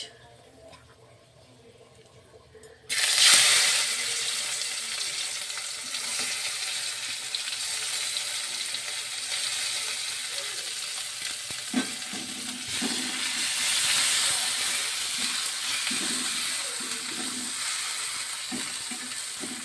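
Onion drops into hot oil already holding bay leaf, cardamom, cinnamon and cloves, bursting into a loud sizzle after a quiet start. Steady frying follows, with stirring scrapes and clicks near the end.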